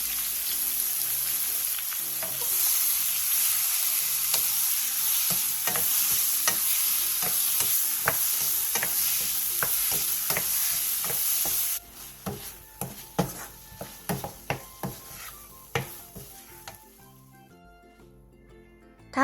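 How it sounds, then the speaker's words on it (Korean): Seasoned eggplant stir-fries in oil in a pan over medium-low heat, a steady bright sizzle with repeated scraping stirs that gives way to quieter, scattered crackles and spatula knocks once the frying hiss drops off. "팬에 기름을 두르고 양념한 가지를 넣어 중약불에서 3분 정도 볶아주세요."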